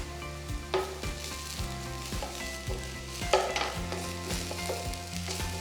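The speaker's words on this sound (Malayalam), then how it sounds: "ഞാൻ ഗാർലിക്കിൻ്റെയും ജിഞ്ചറിൻ്റെയൊക്കെ റോ സ്മെല്ല് പോകണം, അതുവരെ കുക്ക് ചെയ്യാം." Onions with garlic paste and crushed ginger fry in a pan with a close, steady sizzle. A spoon stirs and taps against the pan in a repeating rhythm, and no voices are heard.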